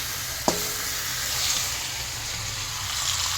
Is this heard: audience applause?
no